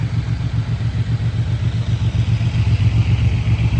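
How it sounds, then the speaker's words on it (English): Can-Am, Honda Gold Wing and Suzuki M109 motorcycle engines idling together, a loud, close, continuous throbbing rumble with a steady pulsing rhythm. "we have got the bikes running"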